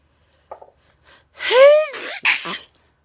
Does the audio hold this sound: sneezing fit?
yes